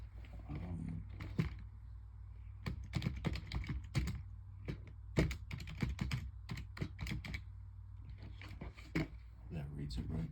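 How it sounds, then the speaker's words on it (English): Rapid keyboard typing, a steady patter of clicks in uneven bursts, close by, with short pauses between flurries. "I gotta type something in here."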